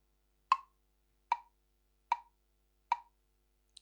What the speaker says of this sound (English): it's telling the metronome, how to divide its beeps, its sounds